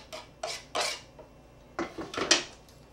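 A spoon scrapes and clinks against a bowl in several short bursts while chopped tarragon mixture is stirred together, quiet and close with brief pauses between strokes.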